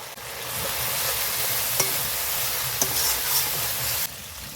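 Salt, Kashmiri chilli powder and turmeric sizzle in a pan for chicken dopiyaza, stirred continuously with a steady frying hiss and two sharp clicks of the spatula against the pan, close and fairly loud.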